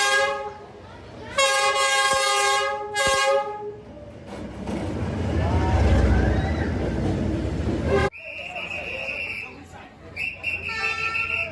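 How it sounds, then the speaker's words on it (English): A train rolls through a narrow residential street in Hanoi, Vietnam, with loud repeated horn blasts at the start, a rumbling pass of the cars in the middle, and more horn toots near the end; voices are heard briefly. "trains only pass by twice a day."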